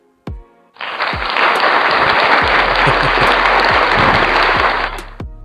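Applause sample played from a V8 soundcard, a dense sustained wash of many hands clapping that starts abruptly after a brief knock, holds steady for about four seconds, then cuts off.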